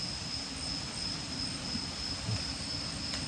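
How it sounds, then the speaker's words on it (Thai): A train approaches near a cliffside spot where termite mushrooms grow, a steady rolling rumble with a high squealing tone from the wheels, moderately loud and heard without talk. "รถไฟเข้ามา"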